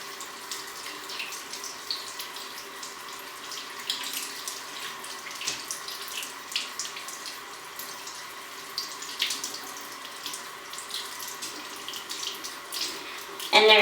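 A running tap pours steadily into a sink while a makeup brush is rinsed under the stream, a constant moderate splashing and trickling that lasts throughout with slight fluctuations and a brief louder burst at the end.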